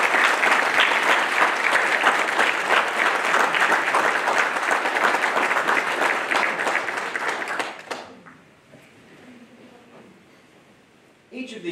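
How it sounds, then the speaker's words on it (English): At a Navy Nuclear Field A School graduation, a crowd of families applauds the newest third-class petty officers with loud, sustained clapping for about eight seconds. The applause then drops away to quiet room tone, with faint talk beneath it. "families, please join me in a round of applause for the Navy's newest third-class petty officers"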